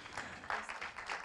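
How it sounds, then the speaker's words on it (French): Soft, distant applause from an audience at a round-table discussion, a quiet patter of many hands clapping together for a short moment. "On peut applaudir Margarita Zlatkova,"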